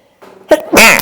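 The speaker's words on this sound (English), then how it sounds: "I'm gonna sneeze" One loud, close human sneeze: a brief sharp inhale builds into a forceful burst, heard alone.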